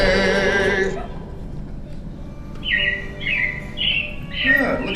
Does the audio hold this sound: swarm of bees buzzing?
no